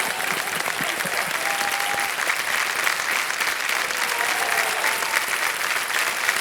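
Dense, loud applause from a television quiz show's studio audience on KBC, steady and continuous for the whole stretch, with no talking over it.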